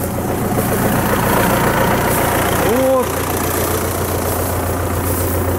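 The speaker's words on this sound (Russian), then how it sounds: "приехал на мотоцикле за мной" A motorcycle engine idles steadily nearby during hay collecting, a low continuous hum running the whole time, with a brief rising whine near the middle.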